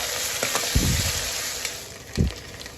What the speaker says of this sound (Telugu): ఇది కూడా ఇక పచ్చివాసన పోయేంత వరకు చక్కగా వేయించుకోవాలి